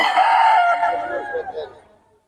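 A rooster from Boss Jhun's flock in Bocaue lets out a strong, near crow that starts at full volume, wavers, and trails away into quiet over about two seconds.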